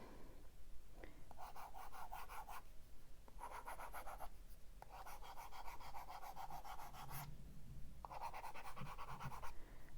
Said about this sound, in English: This tapping noise, I hate it.